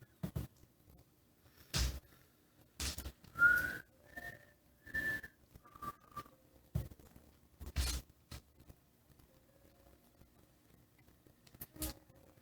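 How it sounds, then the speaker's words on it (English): A person whistles a few short, clear notes among scattered rustles and soft knocks in a quiet setting, with gaps of silence between sounds. "They didn't like your whistling."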